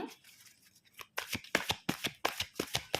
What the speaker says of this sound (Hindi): कितनी देर से मैं शफल कर रही हूँ कार्ड्स को।